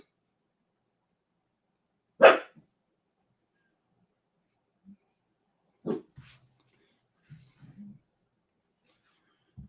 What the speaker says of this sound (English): My dog's over there he's trying to get barky.